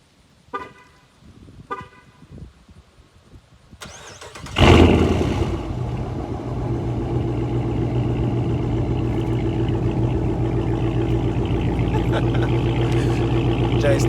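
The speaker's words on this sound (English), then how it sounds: "But let's go ahead and get this cold start" A Chrysler 300 cold-starts after a few seconds of quiet handling noises. The engine catches with a loud burst and then settles into a steady, close, rumbling idle that holds to the end.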